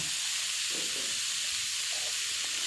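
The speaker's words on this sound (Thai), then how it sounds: "นำหมูสามชั้น ลงไปลวนก่อนนะคะ" Pork belly blanching in boiling water, a constant bright hiss of steam and bubbling with a few soft, low bubbly bursts beneath it.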